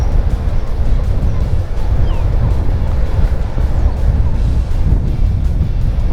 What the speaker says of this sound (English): Very gusty wind, it's difficult to keep the gun still.